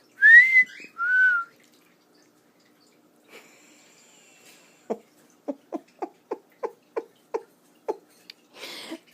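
A pet cockatiel gives two clear, bright whistled notes close up, followed after a quiet gap by a run of soft, evenly spaced clicking taps.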